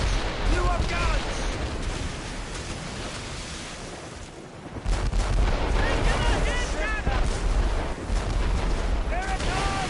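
Ship cannons firing at sea, heavy booms and bursts over rushing wind and surf, with a shouted voice breaking in amid the rough, continuous roar.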